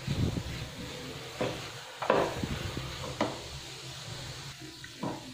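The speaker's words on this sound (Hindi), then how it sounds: "अच्छे से मिलाएंगे" A spoon stirs almond halwa with almonds and pistachios in a pan, giving soft scraping and gentle sizzling with a few distinct knocks against the pan, close and steady, with no talking.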